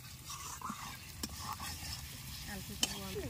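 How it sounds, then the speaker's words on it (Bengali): Chopped tomatoes go into a pan of spices already fried down, bringing a soft, steady sizzle with scraping stirs and occasional sharp clinks of the spatula. The cooking is heard at close range, fairly quiet, with faint household noise behind it. "মশলা কষানো হয়ে গেছে, এখন টমেটো কুচি দিয়ে দিচ্ছে।"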